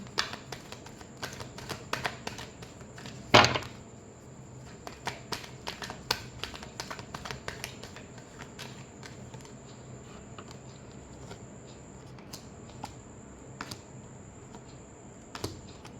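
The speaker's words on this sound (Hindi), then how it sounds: "Last shuffle." Tarot cards being shuffled for a reading, with quick crisp clicks and flicks of the cards in irregular bursts, close and fairly quiet, with one sharper slap partway through.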